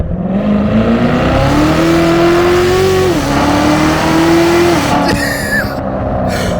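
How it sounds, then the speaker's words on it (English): A C7 Corvette Z06 engine revs hard and climbs in pitch, then shifts and pulls again, loud and close, with a whining tone over the roar. "this car does want to be accelerated on, at least occasionally"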